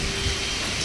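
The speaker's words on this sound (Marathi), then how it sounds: "हे बघा झाडं कशी हालायला लागलेत आणि पाऊस नदीसारखा साठला." Rain pours steadily during a windstorm, a dense, loud hiss of downpour with a low rumble underneath throughout the short stretch.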